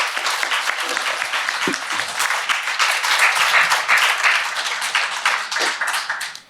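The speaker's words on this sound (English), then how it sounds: "Big round of applause." An audience at a startup demo day applauds loudly, dense clapping that runs steadily for about six seconds before fading at the end.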